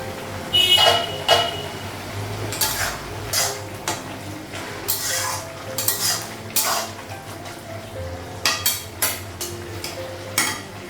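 A metal pot lid is lifted and set back while rice cooks in a home kitchen, giving scattered sharp clanks and clatters of cookware at close range with a low background hum and no talking.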